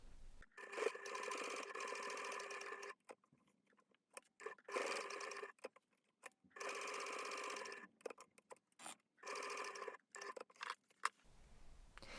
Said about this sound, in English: I'm going to top stitch along those 3 edges, and I'm going to baste along that curved edge just to hold the layers together